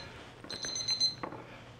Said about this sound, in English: Timer, yay. Those things are indispensable in the kitchen.